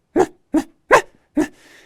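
A voice imitates a meerkat alarm bark: four short, sharp barks spaced evenly, loud and close, with a little breathy trail after the last.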